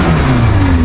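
A learner driver's car engine drones steadily at high revs while gears are being changed, a continuous loud mid-pitched hum with no break.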